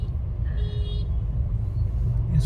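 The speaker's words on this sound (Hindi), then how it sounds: "दिल्ली दूर नहीं है पर दिल्ली का ट्रैफिक भयानक है" Busy Delhi road traffic near homes at school closing time, with e-rickshaws about: a continuous low rumble of passing vehicles and a couple of faint horn toots in the distance.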